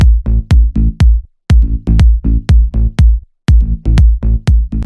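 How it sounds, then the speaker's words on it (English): Punchy progressive house bass line, loud and alone, pulsing in short, evenly spaced notes with brief gaps, a tight repeating groove over a few bars. "Three most important things are going to be his bass lines, which sound like this."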